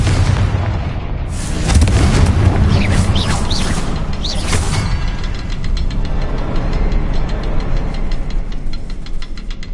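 A Confringo fire spell blasts in Hogwarts Legacy, setting off a heavy, sustained explosive rumble with crackling bursts. The booming fills the space and stays loud, then trails into steady rumbling with fast rattling pulses.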